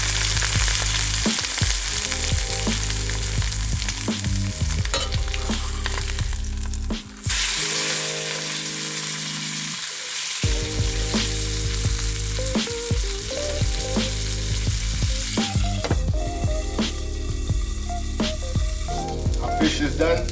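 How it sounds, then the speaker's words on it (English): A piece of barramundi frying in a reused pan that held an egg earlier, a loud steady sizzle and crackle throughout, dipping briefly partway through before resuming, with no talk. "So I'm just gonna cook a piece of barramundi."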